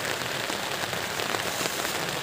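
Rain falls steadily on a mountain trail in the Lirang valley area on Arjuno via Tretes, a dense, even patter with no pauses and no voices.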